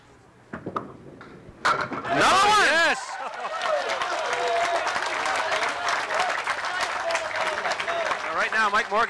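A bowling alley crowd at a televised match breaks into loud, sustained applause and cheering after a shot. It swells suddenly and holds steady over several seconds, with a few voices mixed in.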